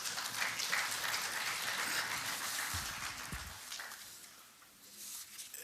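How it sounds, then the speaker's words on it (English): Applause from the chamber of the Pan-African Parliament, a dense, fairly soft spatter of many hands that carries on for several seconds and then thins out. "Another loud applause."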